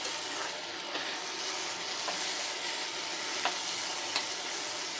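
Kochu loti stems frying with dried fish in oil, a continuous bright sizzle with occasional light stirring clicks, close and steady with no one speaking.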